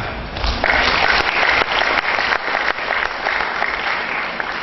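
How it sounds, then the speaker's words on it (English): Steady audience applause at an evening memorial lecture, a full wash of clapping from a seated crowd that holds evenly for several seconds. "Give them a clap."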